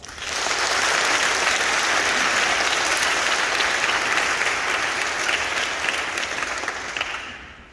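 An audience at the 2022 State MPA choral event applauds steadily for the Braden River High School choir River Rhapsody as it takes the stage. The dense clapping rises quickly, holds loud and even for several seconds, then begins to thin out.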